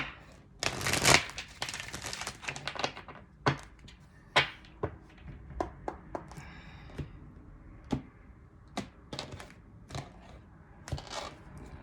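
A deck of tarot cards shuffled close up, a dense riffling burst in the first few seconds followed by scattered sharp taps and flicks as cards are handled and set down, with no voices.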